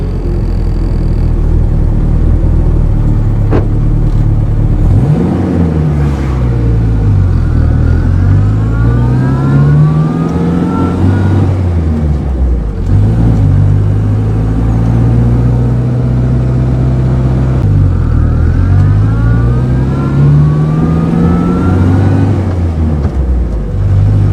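A 1950s car engine, either a Renault 4CV or a Standard 8, idles lumpily and unevenly, then revs up and drops back repeatedly in loud, close surges with a whirring drone between them.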